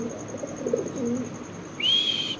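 Caged pigeons coo softly, a low brief murmur early on, followed by a short high chirp near the end against a quiet background.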